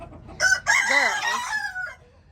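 A chicken's vocal call rises into a harmonic, crow-like cry lasting about a second and a half, loud and close, with no talking.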